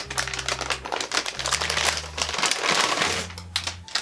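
A GeForce GTX 1050 Ti graphics card is drawn out of an antistatic plastic bag, giving steady crinkling and crumpling of thin film, close and loud throughout, with low steady hum tones underneath.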